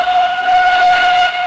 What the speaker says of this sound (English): Whistled Edward.